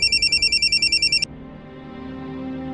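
A mobile phone rings for an incoming call with a rapid, pulsing electronic ringtone close by, about a dozen quick bursts, then it cuts off abruptly, leaving quiet room tone.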